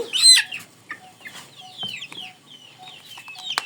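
A hen being caught and held clucks and squawks nearby, with a sharp loud burst at the start followed by scattered softer clucks.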